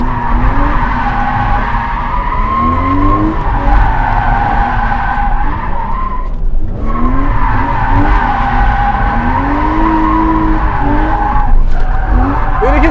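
A car drifts with sustained, loud tire squeal and skidding, the screech wavering in pitch as the rear slides, with an engine revving underneath and brief dips where the slide breaks before squealing again.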